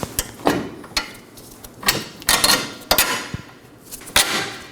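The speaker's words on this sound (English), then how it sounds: "Now we're going to move on to the lower control arm. Going to slide our bolt in." Metal parts of a 2018-2024 Chevrolet Equinox rear suspension clank and tap as a bolt is slid into the lower control arm, giving several sharp, close knocks spaced irregularly over a quiet shop background.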